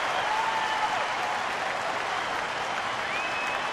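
A baseball crowd at a Braves–Dodgers game cheers and applauds steadily in a dense, continuous wash of clapping, with a few whistles rising above it.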